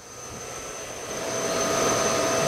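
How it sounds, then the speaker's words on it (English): Three 300 horsepower blower motors in a wastewater treatment plant blower room produce a loud, steady rushing roar with a high whine, swelling slightly as it continues, no talk. "Let's go take a look in the blower room."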